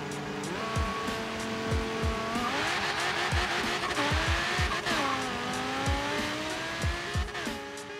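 A Forza Horizon 3 car launches with revving engine and screeching tire squeal, loud and close, the engine note climbing through gear shifts over about eight seconds, with repeated thumping impacts underneath.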